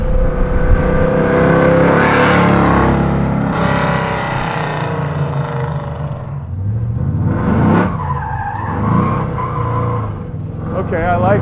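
A Coyote-swapped 1966 Mustang pro-touring car driven hard, with loud engine revving heard from inside the cabin and tire squeal rising and sliding near the end, under brief voices.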